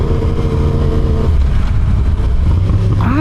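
A Yamaha R1 sport motorcycle on the move, its engine droning loud and close with a steady harmonic whine that drops then climbs again as the rider rolls on the throttle near the end.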